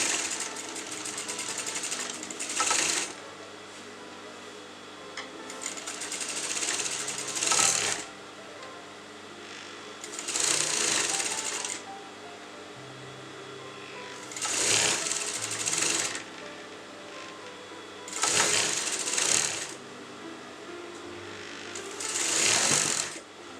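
A sewing machine stitching fabric for a kurta neckline runs in steady whirring bursts of a few seconds each, close and loud, separated by brief pauses, with no talking.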